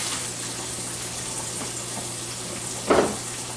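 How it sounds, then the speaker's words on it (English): Steady broadband sizzling from bacon frying in a pan, continuous and close, with a brief louder clatter near the end. "So you're frying some bacon."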